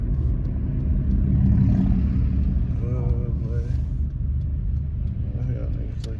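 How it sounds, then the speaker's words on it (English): A Honda Civic engine rumbles steadily with a deep, continuous low drone, close and loud, while people talk over it. "Y'all hear the Honda for real."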